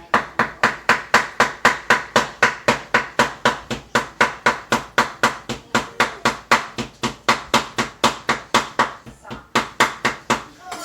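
A cleaver chopping and mincing meat for sausage on a board, steady rapid blows about three per second, loud and close, continuing without pause.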